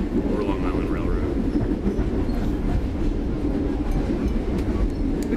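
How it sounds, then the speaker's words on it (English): A comfortable passenger train in Java, Indonesia runs on its rails with a steady, continuous rumble and faint clickety-clack throughout, fairly close and even in level. "It's a really comfortable train."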